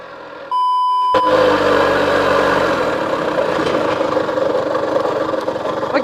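A small engine powering a homemade rice winnowing machine starts with a sharp tone, then runs steadily and loudly at an even idle-like drone throughout, close by with no talking.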